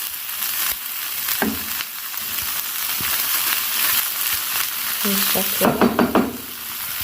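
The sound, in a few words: stirring tomatoes into frying sausage and onions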